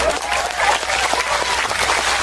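Sustained applause from a live audience at an Indonesian Islamic sermon by KH. Anwar Zahid, a dense, steady clapping wash that fills the whole moment without any voice on top.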